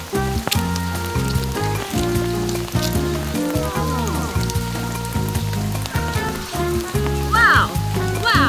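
Rain falling outdoors in New Zealand, a dense patter of drops on surfaces that holds steady throughout, with a few brief higher chirps above it.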